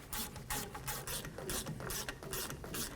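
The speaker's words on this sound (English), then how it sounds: "Let's torque these caliper slider bolts to 22 foot-pounds." Torque wrench clicking and ratcheting on the rear brake caliper slider bolts of a 2004-08 Ford F-150, a run of repeated mechanical clicks and scraping bursts at close range with no talking.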